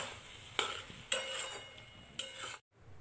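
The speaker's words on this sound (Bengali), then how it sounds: "এবার ভালো করে নেড়ে চেড়ে মিশিয়ে নামিয়ে নেব লাউয়ের ঘন্ট" A spoon scrapes and clatters against a pan while bottle gourd curry (lau ghonto) is stirred, with three distinct metallic knocks over a soft, steady background and a short silence just before the end.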